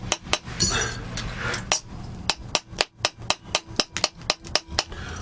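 Small hammer tapping metal while making Viking-style turtle brooches, a series of sharp, ringing clinks, scattered at first and then falling into a fairly steady rhythm, close and crisp.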